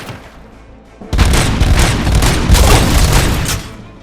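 Loud bursts of gunfire from the RoboCop: Rogue City game break out after a second of quiet, a dense rapid barrage of close shots and booms that runs for a few seconds before easing off.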